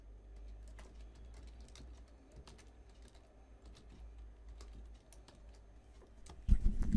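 Typing on a computer keyboard, a quick run of light, close key clicks in an irregular rhythm, followed by a louder clatter at the end, with faint bird cooing in the background.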